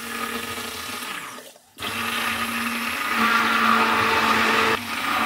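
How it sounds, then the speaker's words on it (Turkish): A kitchen blender whirs steadily as it churns semi-frozen homemade lemon ice cream, its motor cutting out briefly and then starting up again with a loud, even drone. "Şimdi blenderla 3-4 dakika karıştıracağım."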